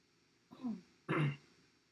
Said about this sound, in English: Now can you clear your throat?